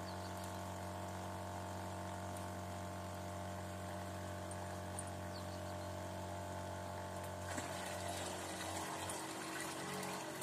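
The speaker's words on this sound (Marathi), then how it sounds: "हा पंप पूर्णपणे गच्च भरून येणार आहे।" Pesticide liquid pours into a sprayer pump tank, a continuous quiet trickle and gush with a steady underlying hum, shifting slightly in tone toward the end as the tank fills, no speech.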